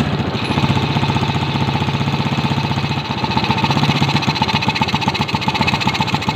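A Suzuki motorcycle engine idles close by during carburetor tuning, a continuous rapid chugging pulse that runs slightly unsteady throughout, heard alone.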